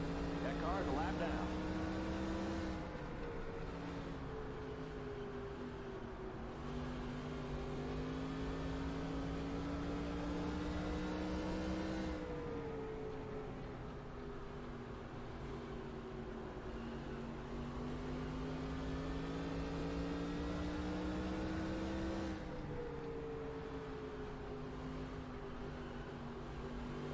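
A race car engine at speed in the NASCAR Racing 2003 sim at the 1992 Tyson/Holly Farms 400: a continuous high, droning engine whine that rises and dips with a few gear or throttle changes, heard alone at moderate level.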